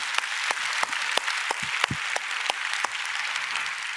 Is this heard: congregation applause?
yes